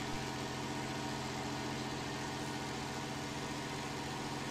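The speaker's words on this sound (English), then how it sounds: "We really need a faster tractor." A slow tractor engine drives along in a farming video game, a steady, even low drone with no change in pitch, faint and constant throughout, with no talking.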